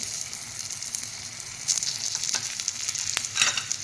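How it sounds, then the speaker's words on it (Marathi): Oil sizzling as it is poured into holes made in a batter cooking in a frying dish, a steady close crackle with brief louder bursts of spitting. "आता तेल आपण हे जे छिद्र केलेत त्याच्या त्यात हे तेल सोडायचं"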